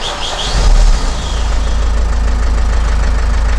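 Vauxhall Vivaro 2.0 van engine starting and settling into a loud, steady low idle, with a brief surge in the first second.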